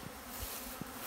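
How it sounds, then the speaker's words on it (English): Bees buzz around feeders cut from big totes outdoors in the morning, a faint, steady insect drone with a couple of brief closer passes. "Just coming down this morning to see if the bees found my feeders."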